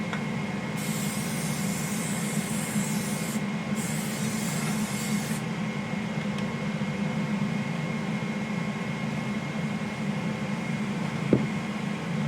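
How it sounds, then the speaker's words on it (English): Canola oil sprayed onto an unheated breakfast griddle in two short aerosol bursts, a close, airy hiss over a steady background hum, with a small knock near the end. "I'm going to spray it with a little bit of canola."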